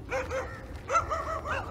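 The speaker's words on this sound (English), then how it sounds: "Some dogs barking in the morning." Dogs bark in the morning outdoors, giving a few short barks and yips in two loose clusters at moderate distance, fairly clear against quiet background.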